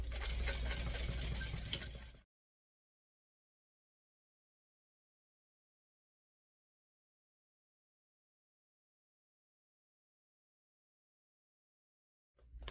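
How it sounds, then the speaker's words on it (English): A sewing machine stitches around fabric at a quarter-inch seam, running in a loud, close, steady whir for about two seconds, then stopping into long silence before briefly starting up again at the very end. "now I'm going to sew around at 1/4 of an inch all the way around."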